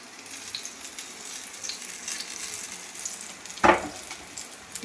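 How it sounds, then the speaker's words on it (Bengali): Snacks fry in hot oil for a festival meal, a steady soft sizzle and crackle with a brief sharp clatter partway through. "দেখুন আমি ভাজতে দিয়ে দিয়েছি, ভাজাভুজি হচ্ছে।"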